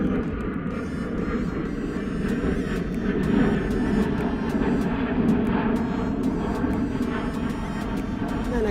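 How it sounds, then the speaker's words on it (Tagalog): An airplane flies over a coastal national park at La Perouse, Sydney, as a loud, broad, steady engine roar that holds for the whole stretch. "may eroplano na naman."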